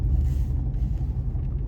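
A car engine spins over and runs with a steady, loud low rumble that carries the whole moment without any voices.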